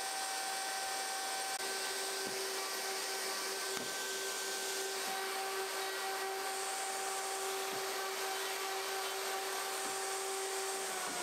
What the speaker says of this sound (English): Next I use a chamfering bit in my router to clean up the freshly drilled edges of each hole.